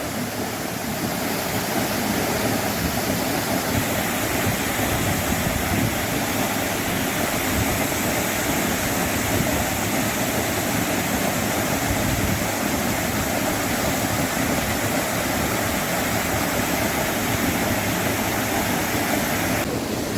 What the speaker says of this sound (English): that's probably a 100-foot waterfall